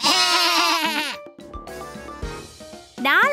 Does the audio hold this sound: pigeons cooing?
no